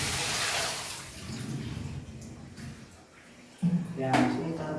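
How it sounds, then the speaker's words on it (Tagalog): Water runs from a water purifier filter while gallons are being filled, a steady splashing flow under people talking nearby, with a louder gush near the end. "So buksan nyo yan, may tubig yan."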